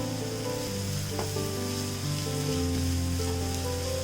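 Onions sautéing in a pan for Kerala-style beef ularthiyathu give a steady, close sizzle and fry hiss that runs continuously, with a faint scrape of stirring partway through.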